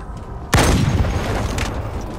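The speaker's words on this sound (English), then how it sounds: "Throwing a nade at that guy you just shot." A grenade detonates with a sudden loud, close boom in Halo 2 Anniversary, followed by a rumbling decay under steady game ambience, with a fainter burst afterward.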